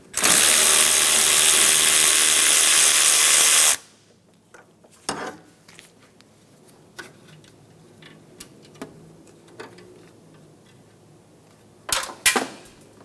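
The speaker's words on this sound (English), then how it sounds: "remove the condenser line bolt using a 10mm socket" Ratchet with a 10mm socket removing a condenser line bolt on a 2007-2012 Nissan Altima, heard as scattered faint clicks after a loud burst of steady noise, then a few sharper clicks near the end.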